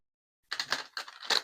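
Tarot cards riffle and flutter in a few quick bursts of crisp papery snapping, close by and after a moment of silence.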